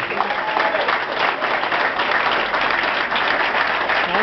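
A rally crowd at the De Anza Motel applauds Frank Salazar, dense continuous clapping with some cheering mixed in, loud and steady throughout, with voices faintly audible underneath.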